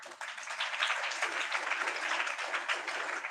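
Congregation clapping together at a Sunday church meeting, a dense, steady wash of applause that carries evenly from start to finish.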